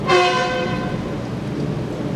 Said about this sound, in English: Honk if you love JoJo